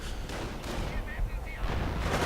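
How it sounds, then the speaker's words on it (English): Video game artillery fires into the center of a battlefield, heavy booming blasts and rumbling impacts rolling over one another in a short, dense barrage. "And artillery once more firing into the center"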